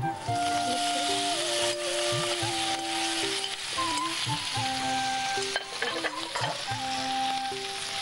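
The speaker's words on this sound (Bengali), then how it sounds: "কিন্তু তেল গরম হয়ে গেছে, এটা ছেড়ে দিই" Filling dropped into hot oil fries with a dense, loud sizzle, stirred and scraped with a metal spatula, with bright clinks and tonal scraping tones throughout; no talking.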